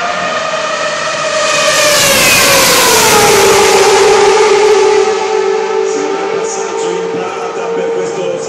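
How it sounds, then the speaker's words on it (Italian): A racing motorcycle engine roars past at a world finals event, a loud, sustained howl whose pitch climbs and then drops as it sweeps by and fades slightly. "Lasciamo spazio in voce ai motori di questa straordinaria moto."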